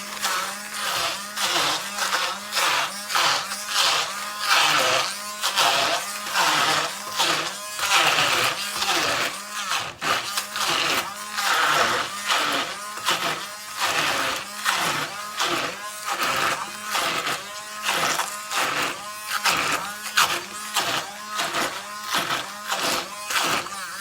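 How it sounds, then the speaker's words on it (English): A hand blender whirs through food beneath a cloth in steady pulsing bursts, its motor buzz rising and dipping rhythmically close up for the whole stretch. "it's now time to put the hand blender on it"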